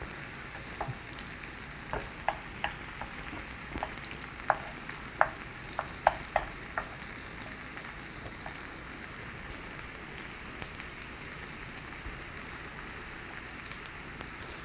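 A potato pancake made from new-season potatoes frying in oil in a preheated pan, a soft continuous sizzle dotted with small sharp pops and crackles, quiet and close, with no one talking.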